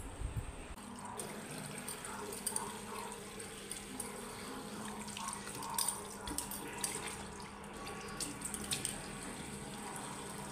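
A tap runs steadily into a sink during face washing, a soft continuous water stream with splashes and drips from hands, heard at moderate distance.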